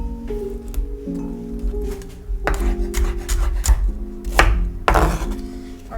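Vegetables chopped into small pieces with a knife on a board: a few irregular, sharp chops over steady tonal background music.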